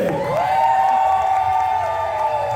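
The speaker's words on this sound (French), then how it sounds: "On applaudit Léa" Wedding guests at a Congolese celebration cheer and whoop for the bride, a loud sustained crowd roar with a high rising shout carrying over it throughout.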